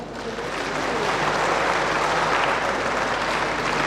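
Loud, dense applause from a crowd at a public government event in India, a continuous wash of clapping that swells slightly and stays strong throughout.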